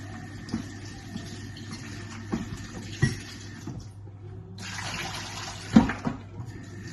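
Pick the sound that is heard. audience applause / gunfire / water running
water running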